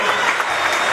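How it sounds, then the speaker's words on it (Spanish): Audience applause at an inauguration event for new plinths and a stage in San Jacinto de Iñán: a loud, close, dense patter of many hands clapping for about a second, without speech. "Un aplauso para ellos."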